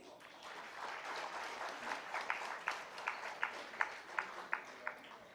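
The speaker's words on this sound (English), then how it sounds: "May I request for applause," Audience applause at the IPA Congress 2018 fills the hall, a steady wash of many hands that swells in the second half into several sharper, louder clap bursts. The sound is fairly distant and soft.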